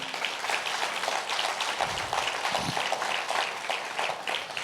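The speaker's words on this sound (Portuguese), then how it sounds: "Você pode aplaudir isso em nome de Jesus?" Church congregation applause during a sermon: a steady, moderately loud wash of many hands clapping throughout, with a few low thumps partway through.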